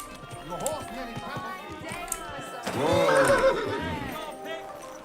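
A horse in the video game Kingdom Come: Deliverance II whinnies loudly with a shaky, descending neigh, rising over steady background noise and chatter, then fading out.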